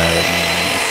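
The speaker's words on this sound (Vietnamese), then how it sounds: "Tôi quay cận cảnh một chút và để âm thanh của tiếng cưa để các bạn cảm nhận nhé." A saw, apparently a chainsaw, cuts a wooden joint for a traditional Vietnamese timber house, a dense continuous rasping buzz heard up close for a brief moment.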